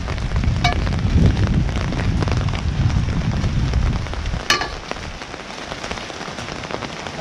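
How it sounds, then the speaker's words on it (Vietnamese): Rain pours down outdoors where workers in raincoats are installing equipment, a loud, steady hiss that drops off sharply partway through, leaving quieter dripping and a couple of sharp knocks. "Rất là vất vả, trời thì mưa."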